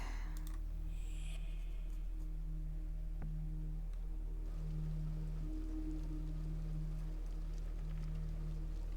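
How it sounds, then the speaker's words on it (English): Steady soft rain hissing throughout, at close range and moderate level, with a low droning hum and tonal bands underneath and a few faint clicks, but no voices. "it's raining in my game and it's raining here"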